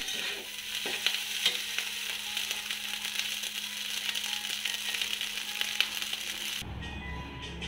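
Fish belly fries in a pan with a dense, close sizzle and crackle, broken by occasional clinks and scrapes of stirring, before the sound cuts off abruptly near the end.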